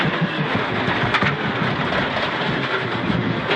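A rally car at full throttle on an asphalt special stage of the Jim Clark Rally 2012, a loud continuous engine roar with road and wind rumble from inside the car, steady throughout with a brief spike near the middle.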